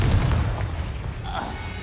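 A Confringo fire spell detonates in Hogwarts Legacy, giving one short, deep boom right at the start that rolls off into a lower rumble.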